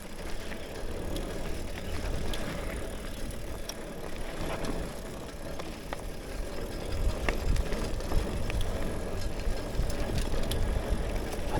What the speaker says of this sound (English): I think that rattling is the reflector